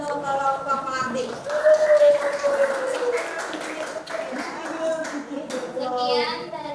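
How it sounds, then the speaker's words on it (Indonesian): A classroom of students claps for a presenting group, scattered light applause mixed with children's voices and chatter, moderately close. "Oke, tepuk tangan untuk kelompok pelatih."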